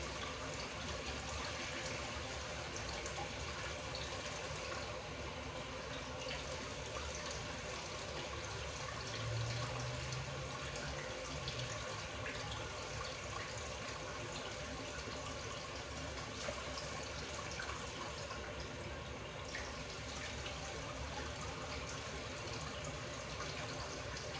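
Tap water pours steadily into a pot for boiling rice in a home kitchen, a constant gushing hiss that runs unbroken throughout with no talk.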